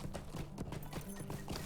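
Horse hooves clip-clop at a steady trotting rhythm in Lord of the Rings Online, the clear, evenly spaced hoofbeats sounding close and moderately loud with no speech over them.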